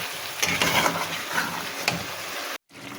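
Water poured into a pan of fried eggs and bottle gourd curry, with soft stirring and scraping clatter, then a brief silence near the end.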